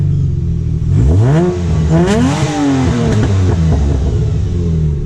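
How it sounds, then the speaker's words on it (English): An H6-swapped Subaru Forester engine is revved once, sweeping quickly up in pitch and then settling back with a rough, throaty drone, loud and close throughout. "Might as well give you one quick rev."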